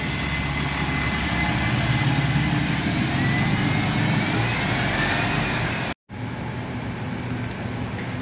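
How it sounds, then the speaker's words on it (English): A diesel Enviro300 single-deck bus pulls away from a bay at Basingstoke bus station, a steady mid-pitched engine rumble with continuous station background noise, briefly cut out by a short gap near the end. "Now leaving on the far side is an E300"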